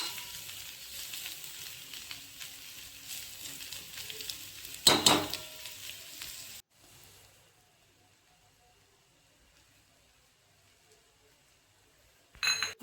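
Masala okra (bhindi) cooks in a pan with a steady, moderate sizzle and a brief clink midway. The frying then drops to near silence before a short burst of sizzling returns at the end.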